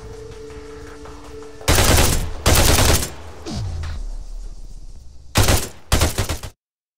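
Video game gunfire at an ArmA 3 shooting range: several loud, close bursts of rapid shots, separated by quieter stretches of ambient game sound and a low rumble.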